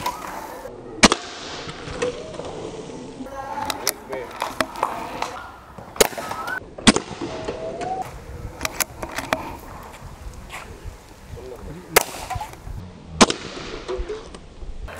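A Diana Outlaw .177 PCP air rifle is fired repeatedly, each shot a sharp, short crack spaced a second or more apart, with someone talking between shots.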